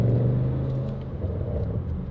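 An Audi RS7 with a Valvetronic Designs exhaust and Unitronic sport downpipe rolls at about 20 mph on light throttle, heard from inside as a deep, steady bassy drone with a slight swell and no talk.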